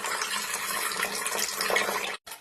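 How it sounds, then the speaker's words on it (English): Water pours steadily into a Thermomix mixing bowl while making pizza dough, a close, bright splashing rush that lasts a couple of seconds before cutting off abruptly. "Let's add the water."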